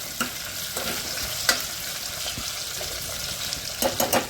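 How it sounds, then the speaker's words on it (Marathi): Curry leaves dropped into hot oil in a pan for a quick raw totapuri mango methamba, crackling and sizzling up close with a steady hiss and a few sharper pops and stirring scrapes, no talking. "आता याच्यामध्ये दोन चार पानं आपल्याला कढीपत्त्याची टाकायचे"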